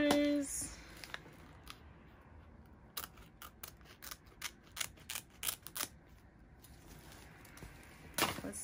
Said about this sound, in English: Gotta take this tag off.